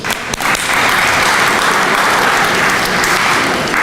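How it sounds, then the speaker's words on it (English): A banquet audience at a college athletics event breaks into sustained applause, a steady loud wash of many hands clapping together that holds throughout without pause. "You can give yourself a round of applause."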